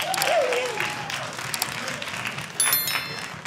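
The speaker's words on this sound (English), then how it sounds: "Clap if you're in your 20s." Audience members clap together in a comedy club crowd at a stand-up show, a dense steady patter under a voice with some murmuring, picking up briefly near the end.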